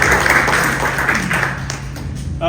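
Audience applause at a chamber of commerce luncheon, a steady dense round of clapping from a room of guests, moderately loud and continuous before tapering off at the end.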